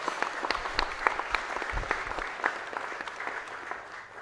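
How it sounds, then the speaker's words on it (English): A room full of people at a corporate event applauds for several seconds, a steady crackling wash of clapping with a few low thumps, heard without talk. "Give yourself a round of applause."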